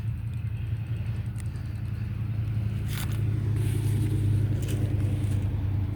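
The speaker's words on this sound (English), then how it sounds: "I like that truck." A truck passes on a nearby road beside a garden where tree stumps are being dug out, a steady low engine rumble that swells slightly as it goes by, with a few faint scrapes and no talking.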